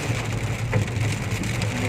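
Heavy rain pouring onto a road, a dense, steady hiss of drops hitting the surface with a low rumble beneath, continuous and close.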